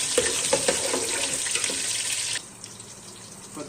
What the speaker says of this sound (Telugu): 2 ఉల్లిపాయలు వేసేసుకొని అన్నీ ఫ్రై చేసేసుకోవాలి